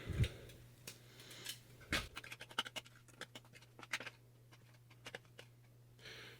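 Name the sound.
crumbling MRE cookie into food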